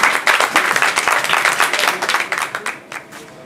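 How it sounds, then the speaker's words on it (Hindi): Loud crowd applause at an open-mic poetry gathering, dense continuous clapping that gradually thins and fades toward the end. "जोरदार तालियां बजते रहनी चाहिए जब तक वो यहाँ आए"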